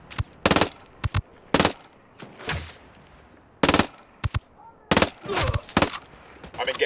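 Gunfire in the video game Ghost Recon Wildlands, sharp bursts of automatic shots in separate volleys with short quiet gaps between them.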